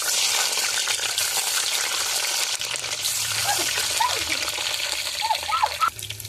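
Double-yolk eggs fry in hot oil in a pan, giving a steady, close sizzle and crackle that runs throughout with a faint voice at times.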